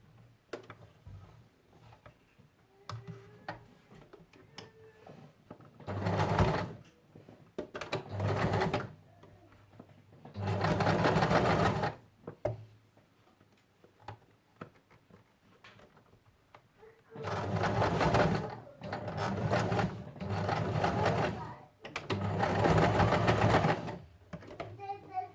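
A sewing machine stitches ribbon trim onto a plush blanket envelope with pompoms. It runs in several loud bursts of rapid stitching, separated by quieter pauses where a person talks.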